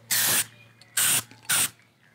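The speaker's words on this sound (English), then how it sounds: "the black spray can, as soon as you started using it, it just leaked everywhere" A black spray paint can sprays onto a car in three short hissing bursts, close and loud, with brief pauses between them.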